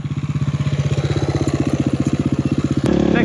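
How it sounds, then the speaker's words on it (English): An enduro motorcycle's engine pulls steadily up a hill climb, a close, loud, pulsing single-cylinder chug that holds a strong rhythm and then jumps into a harder, higher-revving burst near the end. "I can still hear engine noise, he's on it."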